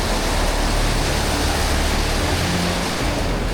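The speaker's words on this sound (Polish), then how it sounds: "przeprawa przez strumyk, z którego woda leciała jakby z tego wodospadu" Water rushing over rocks in a mountain stream fed by a waterfall, a steady loud broadband wash that fills the scene without a break.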